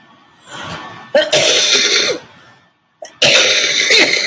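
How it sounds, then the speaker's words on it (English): Two harsh bursts of coughing, loud and close, separated by a brief silence, each burst lasting about a second or more. "you will be hearing me coughing"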